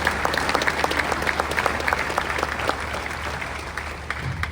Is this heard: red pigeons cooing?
no